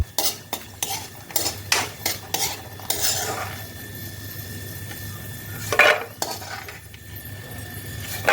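Roasted almonds and cashews are scraped and tipped from a pan onto a plate, a string of sharp metallic clinks and scrapes up close, with one brighter clatter near the end and a low hum underneath.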